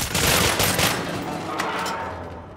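Gunfire in the video game Cryostasis, a dense, sustained burst of shots that stays loud for a couple of seconds and then tapers into a rough, noisy wash.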